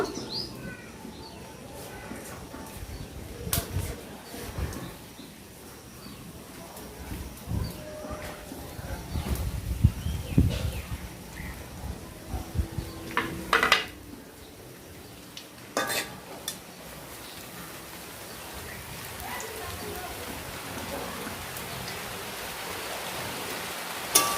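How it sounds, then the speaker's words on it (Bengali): Square pieces of bread frying in hot oil in a pan, a continuous crackling sizzle like rain, with occasional clinks of a utensil against the pan and no talk. "দেখুন আমার তেল গরম হয়ে গেছে। এবারে ব্রেডগুলি দিয়ে লাল লাল করে ভেজে নেব।"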